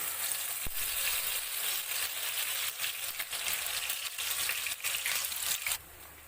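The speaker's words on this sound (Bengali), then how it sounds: "তেল হিট হয়ে গেছে এবার আমি তেলের মধ্যে পেঁয়াজ বাটা আর টমেটো বাটাটা দিয়ে দেবো" Onion paste and tomato paste frying in hot oil for an egg curry, a dense, steady crackling sizzle close up that runs throughout, easing slightly at the very end.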